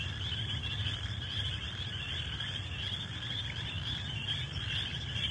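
A dense chorus of spring peeper frogs calls steadily, high shrill peeps overlapping continuously with no pauses, heard at a distance over a low rumble.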